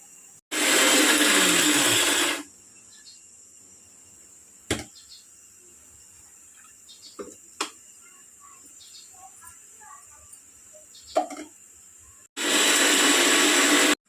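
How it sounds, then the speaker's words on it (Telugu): A mixer grinder grinding whole spices roars loudly in two short bursts, one at the start and one at the end. Between them is near quiet with a few faint clicks. "పెద్ద మసాలాలు రెడీ చేసావు ఏంటంటే మిక్సీ పడతాను"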